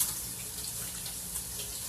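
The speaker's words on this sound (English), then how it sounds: "Now let me go ahead and wash my hands so I can open up my jar." Tap water runs steadily into a sink during handwashing in a home kitchen, a brief, fairly faint continuous rush with no other sounds.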